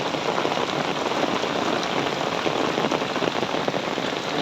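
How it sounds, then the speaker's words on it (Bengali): Rain patters densely and close on an umbrella, a loud, steady drumming hiss with no voices. "আমিও ছাতিতে ভিজে যাইতেছি"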